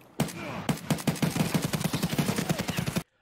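Rapid automatic gunfire in Escape From Tarkov: a close, loud burst of about twenty evenly spaced shots over roughly three seconds, then an abrupt stop.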